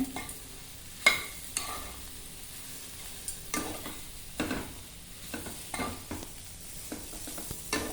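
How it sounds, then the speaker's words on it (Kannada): Mushroom pieces sauté in oil in a pan over a medium flame, with a steady sizzle and the occasional scrape and knock of a stirring spoon. There is no talk. "ಒಂದು ಪೀಸ್ನ ಒಂದು 5 ನಿಮಿಷ ಬಾಡಿಸ್ಕೊಳ್ಳೋಣ"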